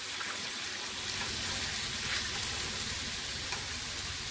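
Meat browning in a pan for a Middle Eastern keto dish, a steady dense sizzle and crackle filling the whole stretch, close and even with no talking.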